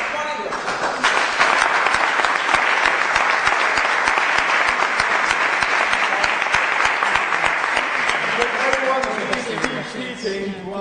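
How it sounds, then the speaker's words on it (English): Loud, sustained applause from a large audience welcoming a special guest at a public gathering, dense steady clapping that swells after a brief start and continues for about ten seconds before easing slightly. "please join me in applauding our special guest and also applauding yourself"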